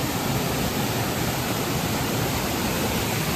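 Dao Falls in Cebu roaring with strong rushing water, a dense, loud, unbroken wash of noise close by with no voices.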